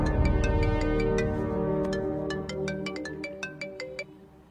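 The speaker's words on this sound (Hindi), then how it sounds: "बिंबी, तुम्हारे लिए कॉल है" A melodic electronic phone ringtone plays loud and near, its tones repeating in a rhythmic pattern that fades slightly toward the end, with no talk over it.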